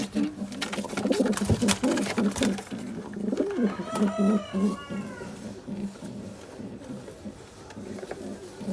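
Pigeons in a loft coo softly at close range in repeated throaty bursts, mixed with wing flutters and handling noise, while someone talks at times.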